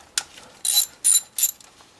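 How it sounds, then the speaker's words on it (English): Ratchet wrench undoing valve cover screws on an 8th generation Honda Accord, three short bursts of close, crisp clicking separated by brief pauses. "unscrew the screw securing the valve cover to the cylinder head"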